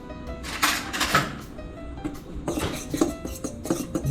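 Metal fork clinking and scraping against a bowl while mixing flour and salt, a handful of sharp taps and scrapes with pauses between.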